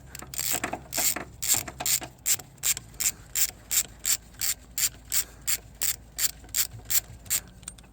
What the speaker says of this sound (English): the nut in my case is already kind of loosened up here, so you'll notice it comes off really easily